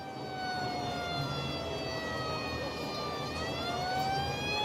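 Police car siren in the Cities Skylines 2 city-building game, a wailing tone sweeping up and down steadily and fairly quietly over a low background hum, with no talking.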